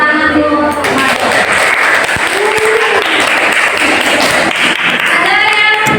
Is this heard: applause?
yes